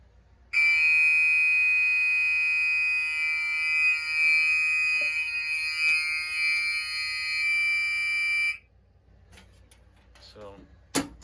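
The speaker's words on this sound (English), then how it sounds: "And the smoke detector." A smoke detector shrieks during a fire alarm system test with Gentex and other notification devices, a loud continuous high-pitched tone lasting about eight seconds before cutting off, followed by quieter clicks and a brief voice.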